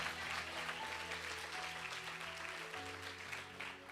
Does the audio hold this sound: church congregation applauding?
yes